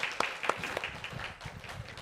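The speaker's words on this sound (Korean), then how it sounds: "우리 박수 한번 칩시다." Church congregation clapping at a Sunday worship service, a light scattered burst of hand claps with a few sharper individual claps in a reverberant hall.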